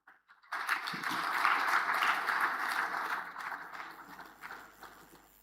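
Audience applause breaks out at an African agriculture science conference after a speaker finishes, a dense wash of clapping that rises quickly, holds, then gradually thins.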